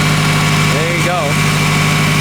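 A Toyota Camry engine idles with a loud, steady exhaust drone and a constant low hum, with no break in the sound from start to finish.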